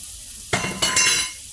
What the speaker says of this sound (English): we're going to put a couple tablespoons of butter in the pan